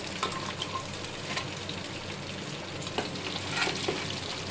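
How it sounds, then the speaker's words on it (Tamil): Prawns frying in a pan for prawn biryani, a steady close sizzle with crackling bursts and occasional stirring scrapes throughout, no talk. "இறாவை ஃப்ரை பண்ணிக்கலாம்."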